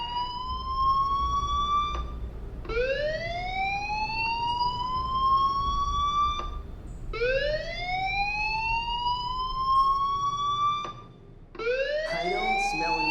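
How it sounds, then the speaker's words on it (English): Fire alarm ringing in the video game Life is Strange Remastered, a loud electronic siren that sweeps upward in repeated rising wails, about every four seconds, steady and alone without voices. "Hey, do you hear that fire alarm?"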